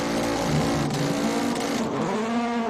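A Subaru WRX hill climb car at the Simola Hill Climb, driven by Petter Solberg, launching hard off the line with a loud, close engine roar that climbs through the gears and holds at full throttle.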